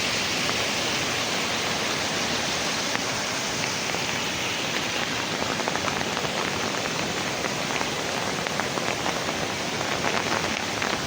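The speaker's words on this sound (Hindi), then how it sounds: "बारिश एक बार फिर तेज़ शुरू हो गई" Heavy rain pours down during a storm in Kashmir, a dense, steady hiss of drops striking surfaces that continues unbroken and fairly loud with no voices.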